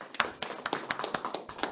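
A small seminar audience at a housing and construction forum gives a brief round of applause, a steady series of sharp claps at a moderate, fairly distant level.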